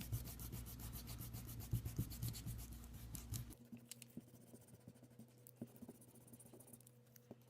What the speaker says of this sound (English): Careful not to rip your paper when you're erasing.